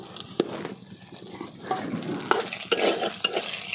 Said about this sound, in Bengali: কড়াই আমি তেল দিয়ে দিলাম দুটো তেজপাতা ছিঁড়ে দিয়ে দিলাম